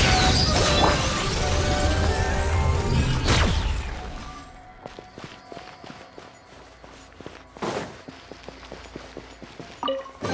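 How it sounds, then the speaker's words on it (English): Explosive fireworks attacks burst in Genshin Impact, with loud crackling blasts and clattering impacts dense at first, then thinning into scattered sharp pops and thuds. "Here comes the fireworks!"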